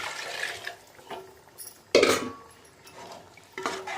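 Chicken tomato gravy is poured into a metal biryani pot, with splashing liquid and clinks of a ladle against the pot in short bursts, close and fairly loud, with no talking.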